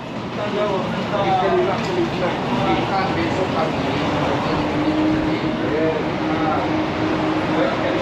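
A metro train in Kuala Lumpur rumbles past with a continuous low roar while people talk over it.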